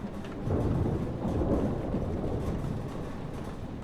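Thunderstorm in the video game Life Is Strange: a steady rumble of thunder rolling over heavy rain, dense and continuous throughout with no speech.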